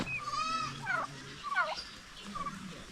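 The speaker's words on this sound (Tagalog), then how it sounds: "Daming pabo, oh." Several farm turkeys gobble in quick, warbling bursts, two or three distinct calls close by over a quiet outdoor background, with no talk over them.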